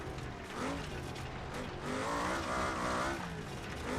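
A car fitted with coilover suspension rolls over a bumpy surface, its engine and road noise holding a steady, close drone with gentle swells in level throughout.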